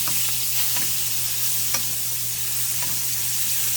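Duck breast sizzles and spits steadily in a hot pan as its fat renders, a continuous close frying hiss with occasional faint pops and no talk.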